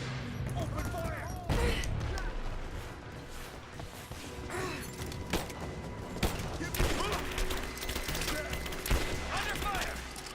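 Repeated gunshots and bursts of automatic fire in Rise of the Tomb Raider, sharp cracks at moderate distance scattered across the scene, with voices calling out between them.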